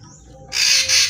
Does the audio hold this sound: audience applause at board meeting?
no